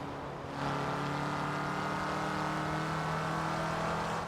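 An Opel (Vauxhall) Astra in Forza Horizon 4 revs up sharply, then holds a steady, loud high-RPM engine drone with no talk over it.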